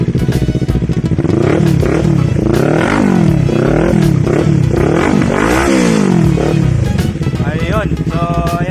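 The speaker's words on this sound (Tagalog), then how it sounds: "sound check tayo without silencer" A motorcycle fitted with an MIBB black titanium muffler, its silencer removed, revs loudly and close by in a rapid run of rising and falling bursts, harsh and raspy throughout, with mechanical clatter and talk in the background.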